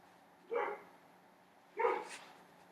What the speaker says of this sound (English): Dog's barking outside.